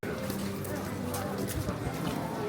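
Horse hooves clip-clopping on pavement near Mirabell Gardens in Salzburg, a quick uneven run of clops amid outdoor crowd noise.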